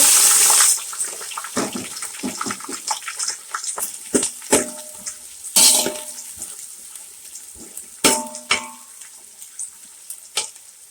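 Onions and green chilies frying with biryani masala in a pot, opening with a loud hissing sizzle that settles into steady crackling, broken by repeated sharp stirring scrapes and clanks up close, no talking.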